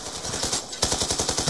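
Rapid automatic gunfire in an online first-person shooter match on the Slums map, a fast steady burst of loud shots in quick rhythm with no voices.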